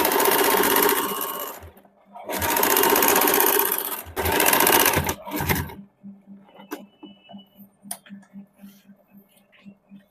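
A sewing machine stitches a three-times-folded hem on suit fabric in three long loud bursts, then stops; faint handling taps and clicks follow in near quiet.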